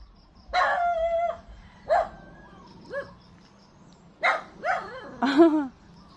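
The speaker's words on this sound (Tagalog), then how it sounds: "Ang iro!" A dog barks in separate loud bursts, some longer, some short, with a brief pause before a final cluster of three barks.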